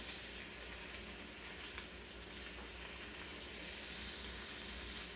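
Breakfast sandwich ham sizzles steadily in a hot pan, a dense crackling hiss that stays close and even throughout, with no talking.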